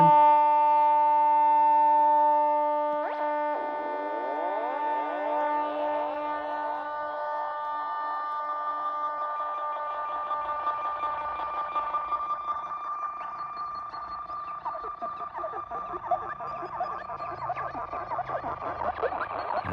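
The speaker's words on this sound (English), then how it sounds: "This one gives us an echo effect." Sci-fi echo effect from small connected sound modules played through a tiny speaker: steady electronic tones with sweeping, repeating echoes that pile into a dense, shimmering wash, fairly loud and continuous throughout with no talking.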